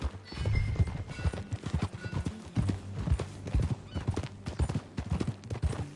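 Rhythmic clip-clop of horse hooves at a steady trot in Red Dead Redemption 2, close and loud, with occasional snorts and no talking.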